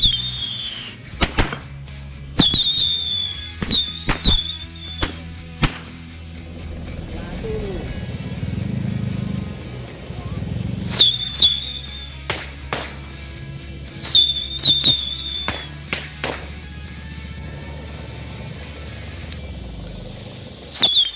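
Firecrackers and smoke ball fireworks go off outdoors in sharp, loud bangs and cracks, some in quick clusters and others spaced apart, with fizzing and crackling between them and people talking now and then.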